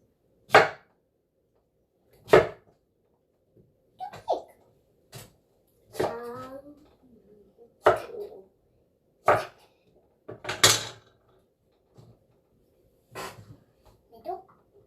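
A knife slicing through a whole, unhalved cucumber, giving a series of sharp, separate chops at spaced intervals, close and clear, with quiet gaps and a brief voice between some strokes.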